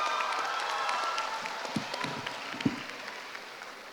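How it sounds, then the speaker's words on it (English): Audience applause at a junior debate showcase sounds faint and distant, a soft wash of clapping with a few closer, sharper claps rising toward the end. "let's give her the biggest round of applause"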